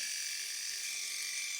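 A Philips Aqua Touch S5420 wet and dry electric shaver runs with a steady high-pitched whine and buzz, constant and close with no speech over it.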